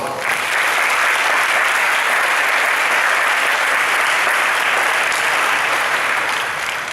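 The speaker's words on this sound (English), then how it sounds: "So let's give this sponsor a round of applause." Audience at the 2019 WYTC opening ceremony applauding a sponsor, dense sustained clapping from a large crowd that starts abruptly and holds steady and loud for several seconds.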